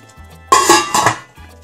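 Minced meat tomato sauce stirred in a pot for a Moroccan sauce with peppers: a brief burst of spoon-on-pot scraping and clinking, loud and close, between quiet moments.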